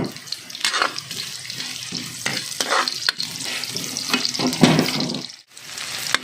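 Ginger frying in a pan for tinola, a crackling sizzle with bursts of stirring and scraping, close up and uneven, with no talk over it.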